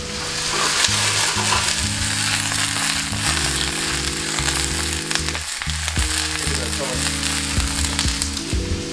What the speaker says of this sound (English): let's get those sprouts flipped.